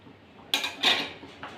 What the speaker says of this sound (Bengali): আমি ঢাকনাটা তুলে নেব